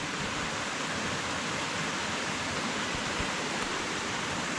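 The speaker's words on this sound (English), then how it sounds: "Everybody likes a wee waterfall." A small waterfall in a shaded park in County Sligo, Ireland, gives a steady, broadband rush of falling water that holds even and unbroken throughout, with no voices over it.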